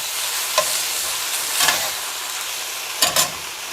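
Garlic sizzles in a hot frying pan while being stirred, a steady close hiss broken by a few short scraping strokes of the utensil against the pan.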